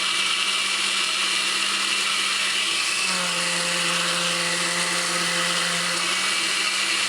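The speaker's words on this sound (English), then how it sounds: "Gradually turn on blender, meaning start from low to high speed." A blender motor whirs steadily and loudly while blending an Irish potato drink, its pitch stepping up partway through as the speed increases from low to high; no voices.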